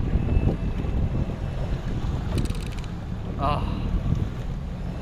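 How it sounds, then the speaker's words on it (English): A brand-new Yamaha 250 outboard engine on a 21-foot Xpress boat hums steadily beneath strong wind and water noise, with a brief spoken exclamation near the start. "this is gonna be the first time I'll be firing up my brand new 250 Yamaha"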